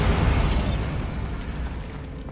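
A Bombarda spell explodes in Hogwarts Legacy, a heavy booming blast that hits at once and then rumbles and decays with crumbling debris.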